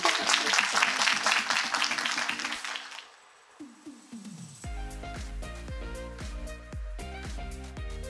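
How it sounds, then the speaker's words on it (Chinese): Audience applause for workers who finished the Taoyuan–Hsinchu backup water pipeline: a brief burst of clapping for about two seconds that fades, then gives way to music. "大家给他们一个很鼓励的掌声"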